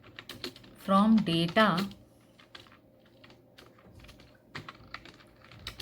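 A MySQL query typed on a computer keyboard, quick light key taps scattered before and after a short spoken phrase.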